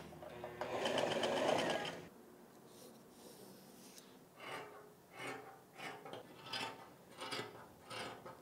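Sewing machine quilting fabric panels with batting whirs in a fast, close burst for about two seconds, followed by quieter soft rustling and breathy handling sounds.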